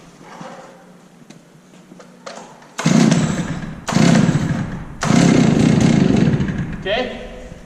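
A chainsaw is pull-started with the choke out, giving several loud bursts of engine sputter and roar in quick succession after a quiet stretch with faint talk.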